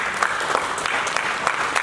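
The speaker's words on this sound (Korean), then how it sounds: "큰 박수 부탁드리겠습니다" An audience at a World Tourism Day lecture event applauds a university professor, a short burst of dense, steady clapping lasting under two seconds.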